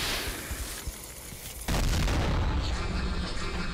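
Animated rockets firing and exploding, heard as a rumbling blast that swells into a sustained, loud roar of booms and crackling, close and filling the whole sound with no voices over it.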